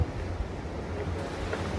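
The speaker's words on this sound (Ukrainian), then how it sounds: "the waves are too big today. It's good for surfing, but not so good for us. So we're snapping against the rocks." Big ocean surf breaks and rumbles against rocks on the New Zealand coast, a steady loud wash of water with wind noise buffeting the microphone throughout.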